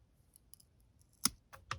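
Pruning shears snip back new growth on a lemon bonsai tree: a few faint light clicks, then two or three sharp, close snips near the end, with no talking.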